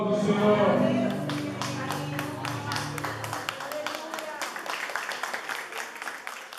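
Church congregation applauding at a fasting service, scattered claps building into steady close clapping after a voice fades out at the start, with some talk mixed in.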